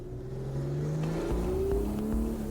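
A modified Porsche sports car engine revs hard while being driven, a loud, sustained engine note climbing in pitch with gear changes, close and alone with no talk.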